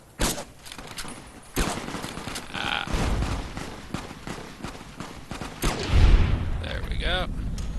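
Gunfire from a headshot in Fallout: New Vegas, a burst of sharp shots and rumbling impacts loud over game sounds, with a voice speaking in between.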